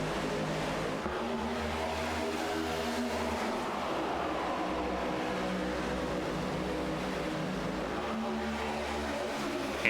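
Race cars in a racing video game roar steadily as they accelerate at a green flag restart, their engines overlapping into one continuous, loud drone that rises slightly throughout.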